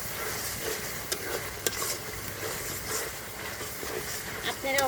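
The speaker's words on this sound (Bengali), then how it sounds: "এখন একটু নাড়াচাড়া দিয়ে দেব" Chicken curry with ground coriander and cumin is stirred in a hot pan, a continuous close sizzle broken by scraping strokes and occasional clacks of the spoon against the pan.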